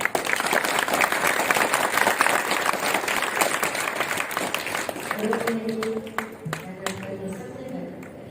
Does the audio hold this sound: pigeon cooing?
no